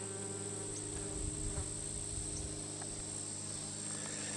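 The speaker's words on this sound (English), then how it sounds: "Got the carpenter bees. Busy." A faint, steady carpenter bee buzz hums against a quiet outdoor background, with a bee drifting near briefly and no voices.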